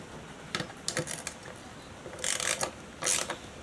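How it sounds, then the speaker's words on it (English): A 10mm socket ratchet clicks in short bursts while tightening a nut on a Suzuki DR650 front fender brace, close and fairly quiet, with small metallic rattles between the bursts. "So I'm going to grab that 10mm socket, put it on the nut underneath, and then hold the top with the star."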